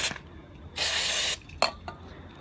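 A short burst of an aerosol cleaner spray onto a car's mass airflow sensor hisses loudly for about half a second, followed by a couple of faint clicks and brief puffs.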